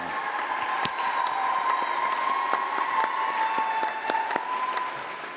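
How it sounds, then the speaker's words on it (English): A graduation ceremony audience gives a steady round of applause that fills the hall for about five seconds, with a sustained musical tone running beneath the clapping before it begins to fade. "So please, graduates, will you stand up and give them a round of applause?"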